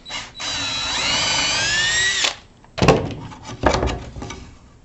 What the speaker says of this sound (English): We're going to use a hand drill with a 3/16 twist drill at the end.